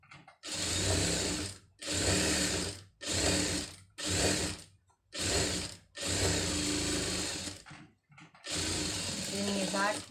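Sewing machine stitching a scallop neck design in bursts, about seven close runs of rapid whirring separated by short pauses, with a quiet voice near the end.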